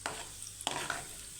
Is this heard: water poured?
no